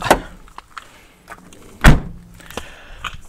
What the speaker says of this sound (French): On referme la porte.